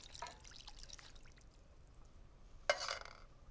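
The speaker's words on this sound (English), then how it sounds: "whenever I use canned tomatoes, I always swill out the tin with water, get every last drop. And in it goes." Water swilled out of a canned tomato tin is poured into a pan, a brief splash and trickle with a sharp splosh toward the end, close and moderately quiet.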